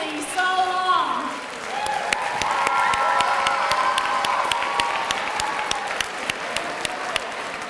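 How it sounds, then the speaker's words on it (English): An audience at a school college and career pathways kickoff event applauds early college students, sustained clapping with some cheering from a large crowd, steady and fairly loud throughout, with brief voices early on. "Let's give the early college students another round of applause for sitting here patiently so long."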